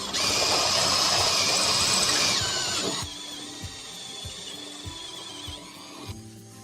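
A power drill whirs loudly at high speed for a couple of seconds drilling 6.5 mm holes through a van's rear door metal panels, then runs lower and slows, with a few clicks and knocks near the end.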